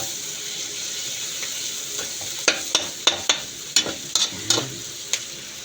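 Chopped onion and garlic sauté in a hot pan for chicken mechado, a steady sizzle underneath a series of sharp clinks and taps from a stirring utensil against the pan.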